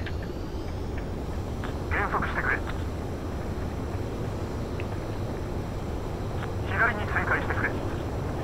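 A fighter jet makes a night landing in the Ace Combat 7 video game. A steady low engine drone and whine run throughout, with a few brighter tonal bursts, under people talking.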